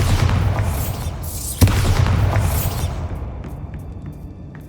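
A Bombarda blasting spell explodes in the Hogwarts Legacy video game, giving a single sharp boom partway through over a dense, rumbling game soundscape that slowly thins out.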